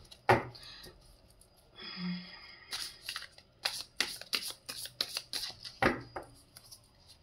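Tarot cards are shuffled by hand, giving quiet, close riffling and flicking bursts in an irregular series, with short pauses between them.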